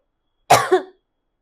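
A single short cough, close and sharp, in two quick bursts, surrounded by silence.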